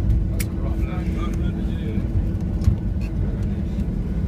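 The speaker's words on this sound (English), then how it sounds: "You can hear those steel brakes." Inside the cabin of a Ryanair Boeing 737-800 during landing rollout at Stansted, the steady low rumble and roar of the aircraft decelerating fills the space, with faint groaning from its steel brakes underneath.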